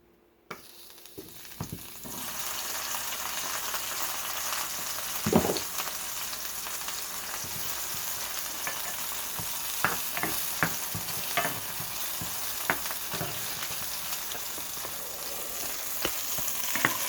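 Onions and leeks sauteing in a pan, a continuous even sizzle at moderate level with occasional soft scrapes and taps of a utensil stirring, no voices.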